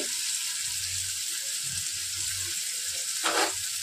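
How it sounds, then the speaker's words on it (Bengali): A pan fries with salt and turmeric, giving a steady, close hiss of sizzling oil throughout, with a brief louder burst near the end. "এবার এটা একটুখানি ভালো করে ভেজে নিই, অল্প একটু ভাজা ভাজা করে।"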